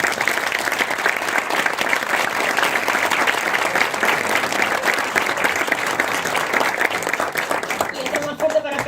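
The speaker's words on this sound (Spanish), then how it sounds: "Un aplauso para Gara." Audience at a criminology talk applauding, dense continuous clapping for several seconds, fairly loud, with a voice emerging over it near the end.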